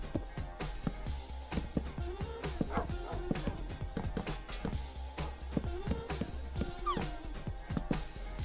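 Dogs in Minecraft bark, yip and whimper in quick, busy succession, close and loud amid fighting game noise.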